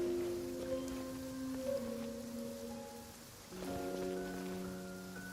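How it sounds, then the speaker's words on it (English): Soft, steady rainfall in the game Genshin Impact, a faint hiss of falling rain running under sustained game music chords. "Cryo is always far more effective in the rain."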